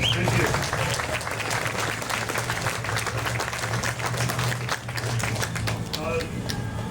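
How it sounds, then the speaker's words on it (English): Audience applause at a civic ceremony welcoming city officials, with steady dense clapping from a crowd that sustains evenly throughout, loud and continuous. "So give him a round of applause"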